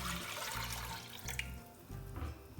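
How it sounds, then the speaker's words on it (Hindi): Chicken stock (yakhni) pours into a soup pot on a stove over low flame, a close, continuous liquid splashing and gurgling that thins briefly midway and then resumes, with no talking. "यखनी को ऐड कर लेंगे इसमें।"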